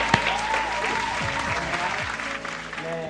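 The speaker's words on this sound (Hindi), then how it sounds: "जोरदार तालियों से स्वागत कीजिए जयदेव जी का।" Audience applause welcoming the poet Jaidev at an Independence Day poetry event, dense and steady throughout, with faint musical tones drifting over the clapping.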